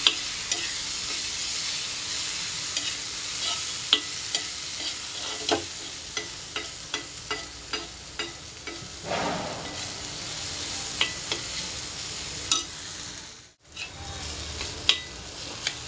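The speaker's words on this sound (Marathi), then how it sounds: "व्यवस्थित मिक्स करून घेऊया मसाला" Masala spices being stirred in a hot frying pan for egg bhurji, with a steady sizzle of frying and repeated scraping taps of the spoon against the pan, fairly close and continuous without talk.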